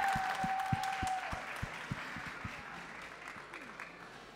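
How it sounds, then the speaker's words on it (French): Applause from an audience in a hall at a Quartier Général event, loose individual claps over a room murmur that thin out and fade, with a faint tone at the start. "Je vous demande de leur faire un tonnerre d'applaudissements."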